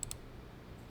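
Two quick, faint clicks of a computer mouse pressing a register button in accounting software, close together at the start and followed by quiet room tone.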